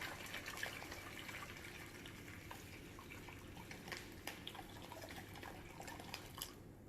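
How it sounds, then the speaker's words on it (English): Hot boiling water is poured into a baking pan for a water bath, giving a faint, continuous splashing trickle with small drips and splatters, heard quietly and without talking. "Nah, kita tuang air panas, boil water"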